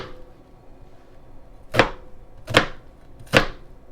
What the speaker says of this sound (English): We're going to start by dicing one large onion